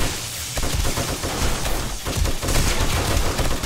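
Automatic turret in the 7 Days to Die horde night fires a steady, dense stream of rapid gunshots, loud and close, with a few brief dips in the burst.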